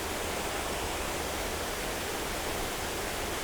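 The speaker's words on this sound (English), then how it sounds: "Now I'm going closer to the waterfall." Dense, steady rushing roar of a waterfall, loud and close, with no pauses.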